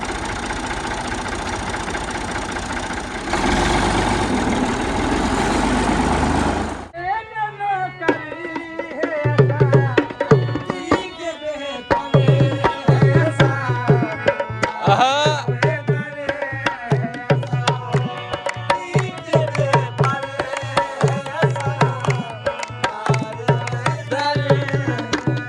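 A tractor engine runs with a rotavator hitched behind it on farmland. Loud broadband noise gives way to a steady, knocking mechanical drone with rhythmic clatter and pulses that continue to the end.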